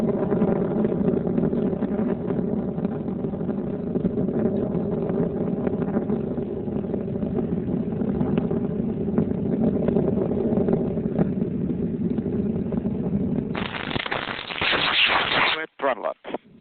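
Space Shuttle Discovery's three liquid-fueled main engines roar steadily through launch and max-Q throttle-down, a dense, continuous rumble that swells into a brighter, harsher burst near the end before briefly cutting out.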